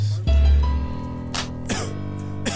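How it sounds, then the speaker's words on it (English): A single harsh cough bursts out, followed by a couple of shorter rough coughs and throat sounds, close and loud, with a voice briefly around them. "Are you coughing?"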